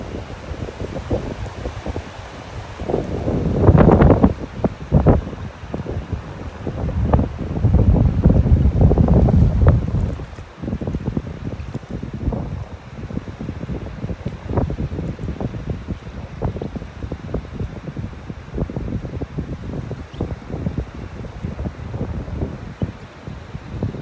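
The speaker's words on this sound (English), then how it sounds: "the wind is blowing the camera around here" Gusty wind on a beach in North Naples, Florida buffets the microphone in heavy low rumbling bursts, strongest early on, then settles into steady flapping noise with no talk.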